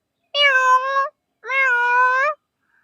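A young child imitates a cat with two long, drawn-out meows, close and clear, separated by a brief pause and with no other talk.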